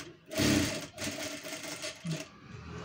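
Sewing machine stitching tucks on a katori blouse, running in a steady whirring burst that pauses briefly and resumes, close and fairly loud with no talking.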